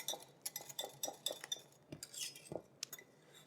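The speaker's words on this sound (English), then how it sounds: "We're just going to add the eggs to the milk mixture and whisk it in well." Eggs whisked into a milk mixture in a bowl for a moussaka bechamel, with a run of quick light clinks and scrapes of the whisk against the bowl, close and quiet, pausing briefly midway.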